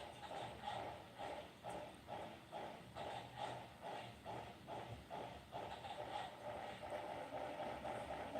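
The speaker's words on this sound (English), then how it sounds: "That's why the engine's having such a hard time starting off." Japanese train laboring to start off on a steep mountain route, with a steady rhythmic chugging pulse repeating roughly every half second over a continuous mechanical rumble, moderately loud and close.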